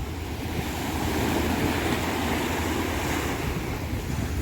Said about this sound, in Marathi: मस्त लाटा येत आहेत समुद्राच्या आणि समुद्राचा आवाज पण मस्त येत असेल तुम्हाला